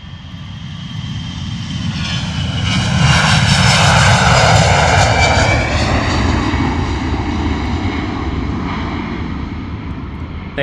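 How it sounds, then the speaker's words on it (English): EasyJet Airbus A320 taking off from London Luton Airport on a misty morning, a loud jet engine roar that swells to a peak and holds with a sweeping whine as the aircraft passes nearby, no talk. "The EasyJet A320 absolutely rocketing out of London Luton Airport this morning."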